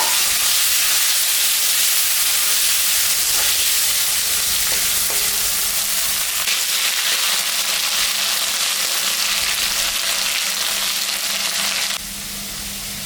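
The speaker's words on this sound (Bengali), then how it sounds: "এখন আমি আলুটা একটু ভাজা করে দেব।" Potatoes fry in a pan of hot oil for Bengali fish curry, giving a loud, continuous close sizzle with faint stirring scrapes, then a slight drop in level near the end; no one speaks.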